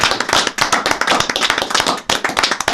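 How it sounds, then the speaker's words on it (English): A small group applauding in a room, brisk clapping that runs continuously with a brief dip near the end, close and fairly loud with no voices over it. "All right, stop applauding now."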